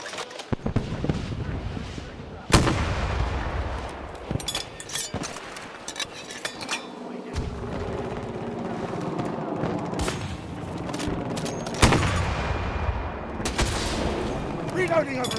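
Battlefield 2042 video game gunfire, dense bursts of automatic fire and sharp shots with a few loud booms throughout, close and chaotic, with voices shouting over the battle.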